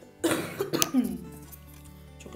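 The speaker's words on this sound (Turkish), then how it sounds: "Çok özür dilerim öksürdüğüm için ama bu bende alışkanlık maalesef." A woman coughs several times in quick succession during a makeup session, close and fairly loud, then clears her throat before it fades into quiet room tone.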